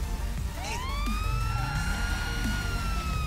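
Police car siren in GTA V, a wailing electronic tone sweeping up and down steadily over game traffic noise, loud and continuous throughout.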